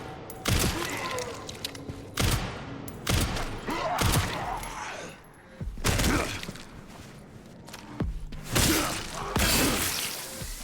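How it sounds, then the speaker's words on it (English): Pistol shots in the survival-horror video game Resident Evil Requiem, a series of loud booming blasts spaced a second or two apart with whooshes and impact thuds between them. "I can take you out with the pistol, we know that."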